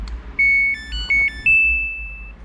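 A series of high electronic beeps from a Samsung appliance's control board: several short tones in quick succession, then one longer sustained beep, close and clear.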